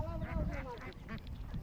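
A flock of white ducks on a farm quacks in quick, repeated nasal bursts, close and busy, with a voice talking faintly underneath.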